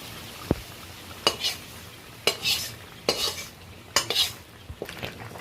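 A spoon scrapes and stirs chicken pieces and fried onions in a metal pot while cooking chicken do pyaza, giving five or six distinct clanking, scraping strokes spaced about a second apart over a faint sizzle, close and clear with no talking.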